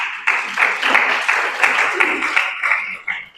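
Sustained applause from a church congregation, steady clapping with a few louder swells, lasting the whole stretch before tapering off at the end.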